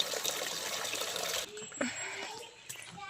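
Water gushes and splashes steadily into a tub filled for cattle to drink, then quiets to a softer trickle with a few faint knocks, recorded faintly.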